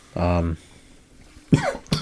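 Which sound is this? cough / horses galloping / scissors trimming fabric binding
cough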